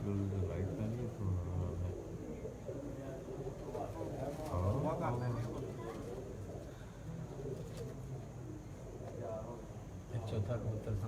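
Several pigeons settling onto a perch in a Punjab pigeon-flying contest, with soft repeated cooing and wing sounds under near-constant background talk.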